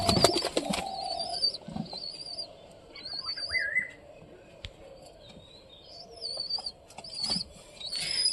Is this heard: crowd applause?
no